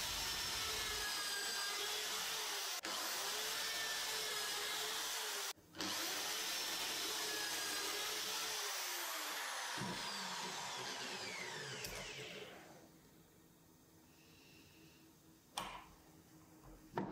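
Electric drill boring pocket holes in solid wood for knock-down shelving, a steady high whine with a few short pauses, then winding down to a quieter hum with a brief final burst.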